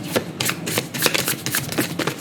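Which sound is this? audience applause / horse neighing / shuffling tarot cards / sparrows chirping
shuffling tarot cards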